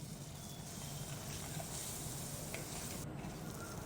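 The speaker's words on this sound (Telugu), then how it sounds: "వేసి బాగా ఫ్రై చేసుకోవాలి." Green chilli pieces frying in oil in a pan for village-style egg gravy curry: a steady, close sizzle and crackle that holds constant throughout, with a faint clink near the end.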